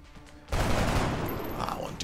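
Alien overwatch fire in the video game XCOM: Enemy Within, a sudden loud burst of rapid shots that hits after a half-second of quiet and rattles on to the end.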